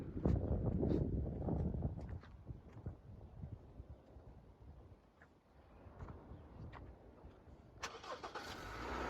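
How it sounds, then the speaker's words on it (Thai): Honda Civic EL 1.8 automatic, 2018 model, starting up: a brief cranking burst settling into a low idle, moderately quiet with some wind noise around. "เปิดเครื่องสตาร์ทดีกว่า"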